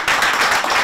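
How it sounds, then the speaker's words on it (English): A short burst of hand clapping from a quiz competition audience, quick and dense, lasting under a second. "Applause"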